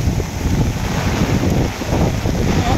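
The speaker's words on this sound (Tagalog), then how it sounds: "Malakas ang hangin." Strong typhoon wind in the Cordillera mountains roars and buffets the microphone in a dense, loud, continuous rumble with gusting surges.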